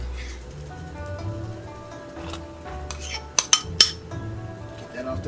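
Miso paste is scraped off a spoon into a pot on the stove for ramen broth, giving a few sharp metallic clinks and scrapes near the middle over a steady low kitchen hum.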